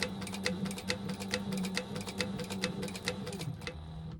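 A sewing machine top stitches across a tote bag pocket with a steady, rapid mechanical hum and regular ticking needle strokes, close and continuous before slowing at the end.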